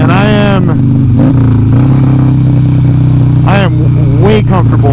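Harley-Davidson Sportster motorcycle engine, loud and close, running with repeated sharp revs and a steady throbbing idle between them, while someone talks over it.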